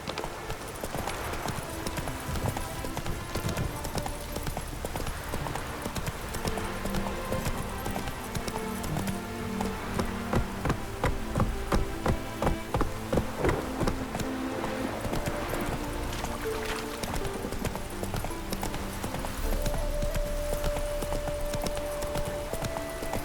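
A horse galloping in The Witcher 3, rapid hoofbeats running continuously under a loud, busy game soundscape with music and ambience, no speech.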